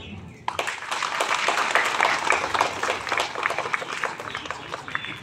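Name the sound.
applause from parents at school event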